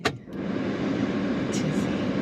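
A freshly serviced car that had sat unused for a year drives off, with a steady low road and engine rumble close by and brief faint knocks.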